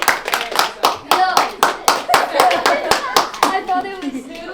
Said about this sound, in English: Okay, a few claps.